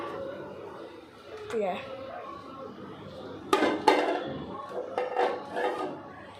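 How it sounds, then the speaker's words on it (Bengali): A plate being picked up, set down and turned on a surface at home, with a few close ceramic clinks and knocks in short bursts while a person talks throughout. "এই যে এটা হচ্ছে একটা প্লেট, পেটা নিলাম, রাখলাম"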